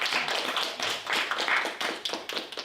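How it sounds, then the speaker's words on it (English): An audience applauds hackathon winners at an AI application challenge finale, a dense, steady round of clapping from many hands, fairly close and loud with no voices. "let's give them a round of applause for their outstanding works"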